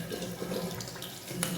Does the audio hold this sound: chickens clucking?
no